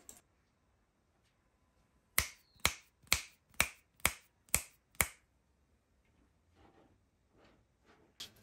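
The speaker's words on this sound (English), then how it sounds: "So this is why I call that a clap or a snap or whatever way that you can make a sound." Seven crisp finger snaps ring out in an even rhythm, loud and close, in an otherwise quiet room, with faint rustling afterward and one last light click.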